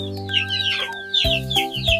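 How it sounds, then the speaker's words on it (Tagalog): Chickens being fed in the Philippine countryside cluck and squawk close by in a busy, overlapping chorus, with bursts of sharper calls joining midway. "Nagpapakain si Papa ng manok dito."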